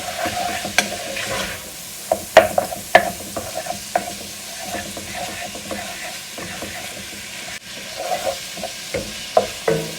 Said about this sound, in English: We're going to brown the sausage up in our bacon fat.